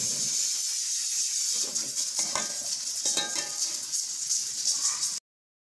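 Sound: meat boiling in pot on stove, steam hissing

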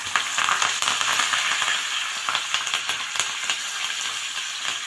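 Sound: mustard seeds, asafoetida and curry leaves sizzling in hot oil

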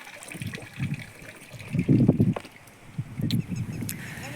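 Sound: cow drinking water

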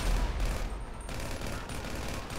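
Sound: gunshots in GTA 5 video game

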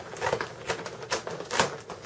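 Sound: scissors cutting straight across material

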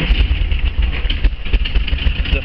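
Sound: engine of a 1976 VW Camper running, 2.0 fuel injected

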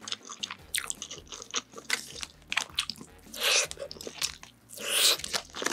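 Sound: biting and chewing a cheese-filled egg roll

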